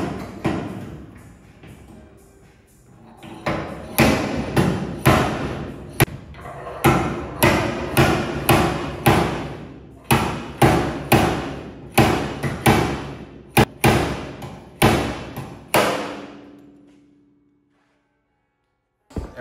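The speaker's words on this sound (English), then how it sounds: "Slide the slide hammer on." Repeated sharp metallic thuds from a slide hammer pulling a 1959 GMC truck door skin, striking in quick bursts, loud and close, with brief pauses between groups before it stops.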